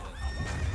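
A horse whinnies in the strategy game Empire Earth, a short, bright neigh with a wavering pitch over a low rumble of background game noise.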